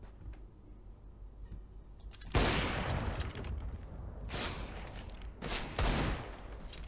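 AWP sniper rifle fire in the video game CS:GO: three loud, sharp shots at uneven intervals, each with a short ringing tail, over a low background game ambience.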